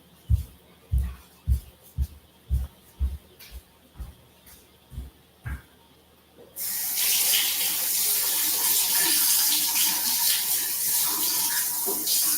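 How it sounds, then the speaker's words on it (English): Tap water running while fingers are rinsed in a kitchen during gingerbread house decorating; a series of soft regular knocks comes first, then a steady loud gush of running water that continues to the end. "Let me just rinse off my fingers."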